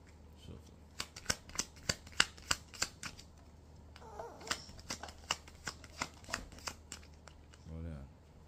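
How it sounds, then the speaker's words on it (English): Playing cards are shuffled during a casual card magic trick, giving a quick run of crisp riffling snaps at close range, followed by a softer rustle, with quiet voices around. "Shuffle."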